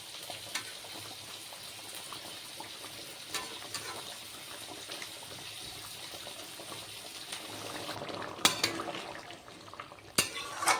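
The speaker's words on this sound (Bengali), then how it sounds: "সব মাছগুলো ঢেলে দিলাম" Pieces of rohu fish tip into a simmering curry with cauliflower and potato, giving a faint bubbling sizzle and soft stirring, with louder clinks of a pan and utensil near the end.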